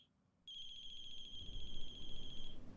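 A phone ringing in the video game The Closing Shift: a sustained electronic ring tone that starts abruptly and holds steady for about two seconds, with low rumbling background noise rising beneath it.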